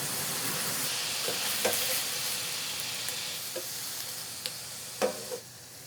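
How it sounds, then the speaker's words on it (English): Browned ground meat being scooped out of a hot frying pan, with a steady soft sizzle and scattered scraping clicks of a utensil against the pan, a few sharper near the end. Close by, no talking. "Now I'm going to just remove this from the pan and I'll drain off if there's any excess liquid."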